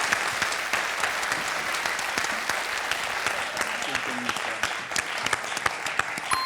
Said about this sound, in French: applaudissements pour René quand même